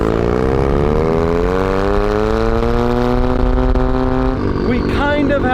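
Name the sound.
Mazda Miata engine running with knocking and ticking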